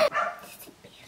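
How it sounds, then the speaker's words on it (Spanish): A dog in a home barks once, loud and close, and a fainter bark or whine trails off behind it. "Siempre que estamos grabando está el mendigo perro."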